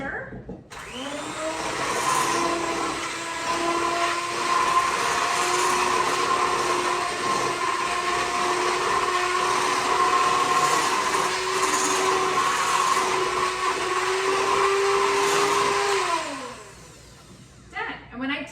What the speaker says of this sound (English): Let's get all of this mixed up with our hand mixer